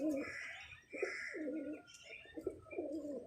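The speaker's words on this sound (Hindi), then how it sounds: "ये चीना बोल रहा है नीचे" Cooing of a Cheena pigeon kept by a pigeon fancier, repeated soft throaty coos in a steady rhythm at close range, with faint chirps from other birds behind and no talking.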